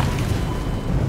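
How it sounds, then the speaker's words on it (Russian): A helicopter exploding in the video game Garry's Mod, a loud, dense, rumbling blast that fills the whole moment without a break. "Нифига себе, это вертолет так взрывается этот."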